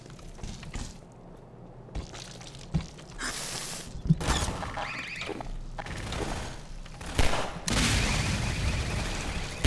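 Gunfire and mechanical weapon sounds from Half-Life 2, dense and loud, with sharp shots and booms over a steady layer of game noise through the whole stretch.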